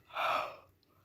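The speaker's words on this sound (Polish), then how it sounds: "Przepraszam, z tym ziewaniem, masakra" A single breathy yawn, close and fairly soft, lasting under a second before trailing into quiet.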